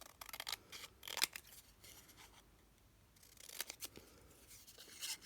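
Scissors snipping paper into small pieces for an ATC card, a few quiet close cuts with soft rustling between them.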